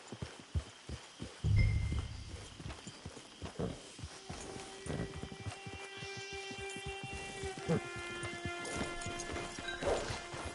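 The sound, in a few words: horse hooves in a video game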